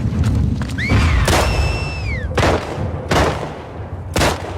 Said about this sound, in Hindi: एबी की गन देखने में AR लगती है, लेकिन है सिंगल शॉट।